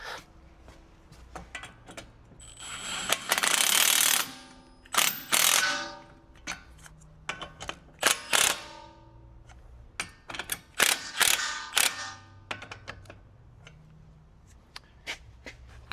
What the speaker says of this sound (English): I'll go ahead and get that bolt run in.